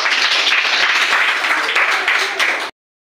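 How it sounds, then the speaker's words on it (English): Children in a school classroom clap together, a dense burst of close, lively applause lasting a few seconds before it cuts off sharply. "All of you clap."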